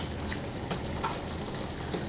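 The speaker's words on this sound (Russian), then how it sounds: "я обжариваю лук на сковородке" Onion fries in a skillet with a steady, close sizzle that holds evenly throughout and has no speech over it.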